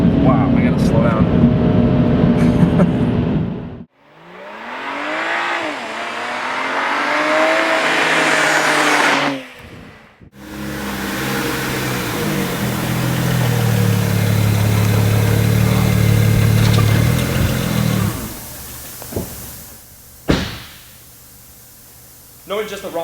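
BMW 335ci turbocharged engine revving and pulling hard through the gears, loud rising sweeps with gear shifts and brief lifts, interrupted midway by a louder cabin roar and ending with a sharp burst before easing off.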